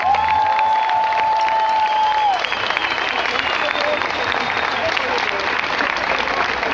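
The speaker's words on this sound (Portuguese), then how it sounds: "Então mais uma salva de palmas para elas." An audience at a singing concert claps and cheers in a sustained burst of applause for the singers, a brief tone sounding at the start, with talk mixed in.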